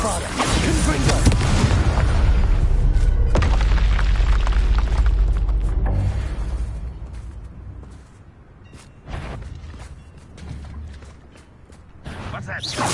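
Bombarda and Confringo spell explosions in the video game Hogwarts Legacy: loud, dense blasts and rumbling booms that fill the first half, then thin out into scattered bursts and mechanical clatter.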